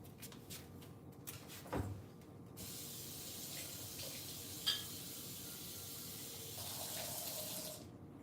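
Tap water runs steadily into a sink to rinse a MAVO pour-over coffee maker. A few knocks and clatters come first, then a continuous close rushing stream with a brief clunk midway.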